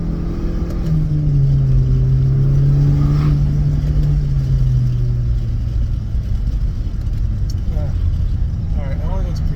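A Honda Civic FK7 fitted with a Mishimoto cold air intake revs hard in second gear. The engine drone is loud and close and rises steadily in pitch, then settles into a rumble.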